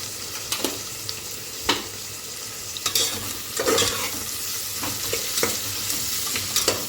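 Onions with a pinch of salt frying over a medium flame in a pressure cooker for chicken biryani: a continuous near sizzle punctuated by irregular scraping and tapping of a spoon against the pot, no speech.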